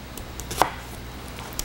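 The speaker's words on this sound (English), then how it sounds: "I'm going to give it just a rough, there we go, half with my French chef's knife" A French chef's knife makes a rough half-chop on a cutting board: one sharp, clear knock stands out among a few faint taps in a quiet kitchen.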